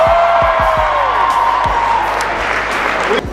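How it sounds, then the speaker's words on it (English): A large audience applauds and cheers at a college event, loud and close, with a sustained roar of clapping, scattered whoops and a low rhythmic thumping underneath, a brief sharper knock near the end. "Give her a big round of applause."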